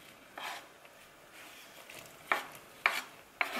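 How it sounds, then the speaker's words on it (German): A pot of spicy noodle soup being stirred, a soft scraping swirl followed by three sharp clinks of a utensil against the pot rim, close and alone. "Einmal verrühren."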